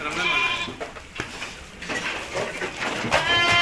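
Goats bleat repeatedly at close range, several overlapping calls rising over a noisy outdoor livestock setting.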